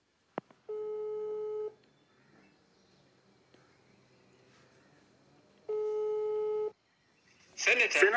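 Two electronic telephone ringing tones, each about a second long and several seconds apart, sound over a quiet background before a voice answers at the end.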